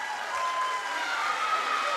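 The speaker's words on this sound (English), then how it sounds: "Well, the crowd liking that." A gymnasium crowd at a boys' varsity high school basketball game claps and cheers in a steady, moderately distant wash of applause, with a voice faintly audible underneath.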